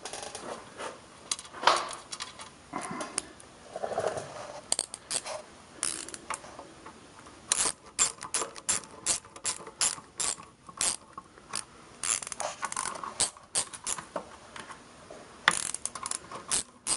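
Close, quiet ratcheting clicks from a hand wrench torquing down ignition coil bolts on an Allis-Chalmers B1 garden tractor, coming in repeated short bursts with pauses between strokes and no talking.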